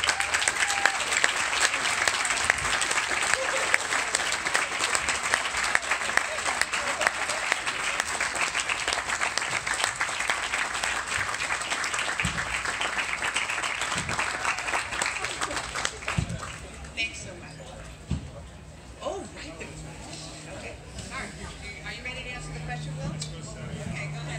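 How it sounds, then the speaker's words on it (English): Sustained audience applause for an award winner at an academic awards ceremony, dense and loud for about sixteen seconds before fading into quieter room noise and scattered sounds. "Let's give her a round of applause."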